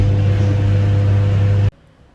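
A microwave oven heating a wrapped roti on max power gives a loud, steady low hum that cuts off abruptly near the end, leaving near silence.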